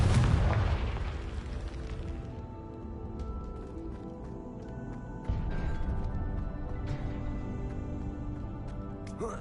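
A Confringo fire-blast spell in the video game Hogwarts Legacy goes off in a loud, booming burst, then a sustained rumble with magical shimmer and scattered crackles carries on after it.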